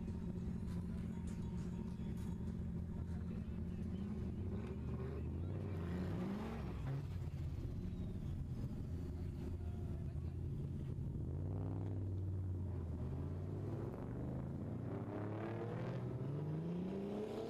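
A drift car's engine at a drift competition in Minsk roars continuously, with rising and falling revs, whining sweeps and a steady low rumble, heard from a moderate distance.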